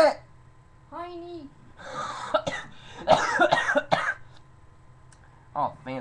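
A few harsh, close coughs and throat-clearing bursts, with a voice speaking briefly between them.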